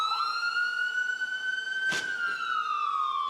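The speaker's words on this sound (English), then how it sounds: "Although Grogan and Watkins are spending their holiday inside an ambulance," An ambulance siren wails with a single rising and falling tone, loud and close, while a brief sharp burst cuts through midway.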